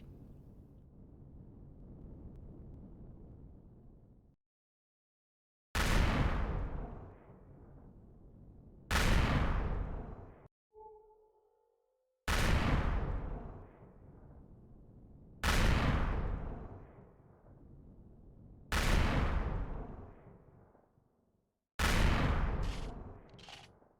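Ship cannons on a capital vessel in Empyrion fire at an enemy's shields in a steady series of loud, booming blasts, each with a decaying rumble, spaced about three seconds apart, with a brief electronic tone in one gap and no speech.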